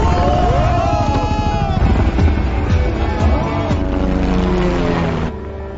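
In a film, a helicopter performs aerial stunts with a loud, steady rotor and engine drone throughout, its pitch sweeping up and down as it manoeuvres, then the sound drops away abruptly near the end.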